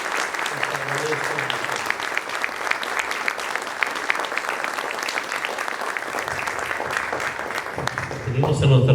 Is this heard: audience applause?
yes